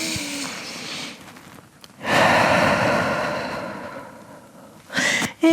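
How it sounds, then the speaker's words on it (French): Deep breathing during a vinyasa yoga session, with a long slow exhale rushing out loudly, followed by a sharper short intake of breath near the end. "Grande respiration ici."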